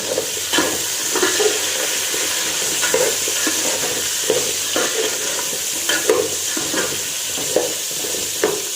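Young jackfruit pieces fry in a pan, a steady sizzle running throughout with repeated stirring scrapes every second or so, close and fairly loud, no voices.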